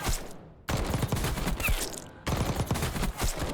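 Rapid automatic gunfire from a low-recoil loadout in Warzone comes in two sustained bursts with a short pause between them, loud and close with sharp reports.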